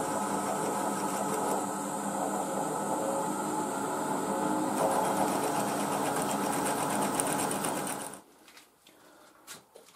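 A steady mechanical whir of a machine drilling a 7.7 mm hole through metal, enlarging a 5 mm pilot hole before reaming. It runs loud and continuous for about eight seconds, then cuts off, leaving a few faint clicks and taps.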